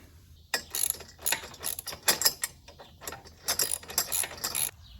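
A ratchet wrench tightens engine guard bolts on a Royal Enfield Classic 350 motorcycle in rapid bursts of close clicking, with short pauses between strokes and no talking.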